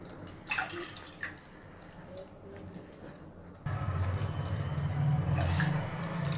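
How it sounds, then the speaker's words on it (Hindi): Water poured into a pot in a home kitchen while making sugar syrup for suji halwa, first a few scattered drips and clinks, then a sudden louder steady gush of pouring liquid. "उसमें मैं पानी का मेजरमेंट करके यहाँ पर ऐड कर रहा हूँ।"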